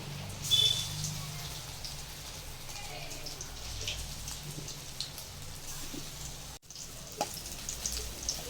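Chopped masala egg pieces frying in hot oil, a steady crackling sizzle like light rain that runs throughout at moderate level, with a brief dropout near the end.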